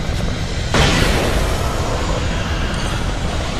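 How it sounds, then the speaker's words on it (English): A flashbang goes off in the video game Alan Wake, a sudden loud burst at under a second that spreads into a sustained roaring wash of noise lasting to the end. "Flashbang!"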